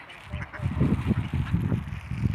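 A flock of wild ducks abroad quacks in a busy, overlapping chorus of low, rough calls, close and fairly loud, with quacks tumbling over one another throughout.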